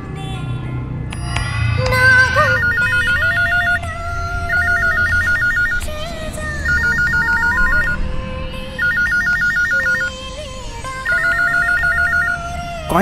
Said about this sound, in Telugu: కాయిన్ బాక్స్ రింగ్ అవుతుంది, చూడండి భయ్యా.